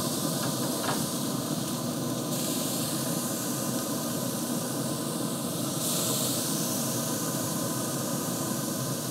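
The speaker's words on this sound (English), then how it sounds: "Like to hear that sizzle." A loud, steady sizzle of chuck steak on a hot grill, a continuous hiss with no voices.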